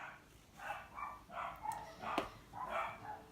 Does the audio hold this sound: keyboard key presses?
no